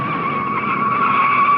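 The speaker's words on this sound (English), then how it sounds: "Don Branson spins." A 1960 race car spins out at the Dutch Grand Prix, giving a loud, sustained tire skid squeal with engine roar underneath, close and unbroken throughout.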